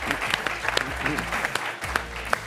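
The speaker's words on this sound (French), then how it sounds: "Je vous demande d'applaudir, d'accueillir Abdoulaye Doucouré." A television studio audience applauds steadily to welcome a guest, Watford midfielder Abdoulaye Doucouré, a brief even stretch of clapping at moderate volume with a voice faintly present beneath it.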